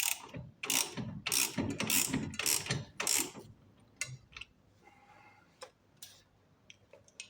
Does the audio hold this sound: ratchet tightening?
yes